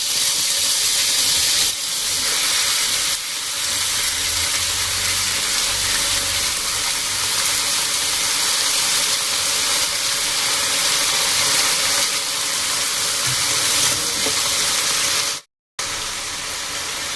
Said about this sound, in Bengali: এবার দিয়ে দেবো শাক, আলু আর বেগুন একসাথে।